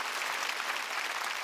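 Church congregation applauding during a Wednesday worship service, steady dense clapping throughout with no voices over it.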